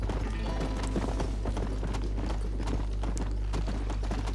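Horse hooves clip-clop in Red Dead Redemption, a steady rhythmic patter of sharp hoof strikes on the ground throughout, fairly close and loud over a constant low game rumble.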